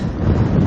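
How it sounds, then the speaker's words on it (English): Strong wind buffeting the microphone beside a lake, a loud continuous low roar and rumble with no talk. "It's very windy."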